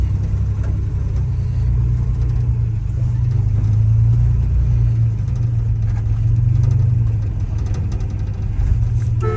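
A 1968 GMC truck with a factory big block 351 V6 runs steadily up close, a loud, deep low-frequency engine rumble with gentle swells in revs and no speech.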